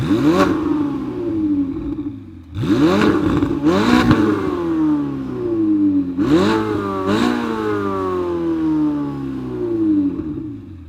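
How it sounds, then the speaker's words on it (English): Several loud engine revs from a Ferrari 488 Spider's factory exhaust, each rising then falling in pitch, close by, with a steady idle rumble between bursts, in a garage. "I was able to get this factory exhaust, which sounds incredible"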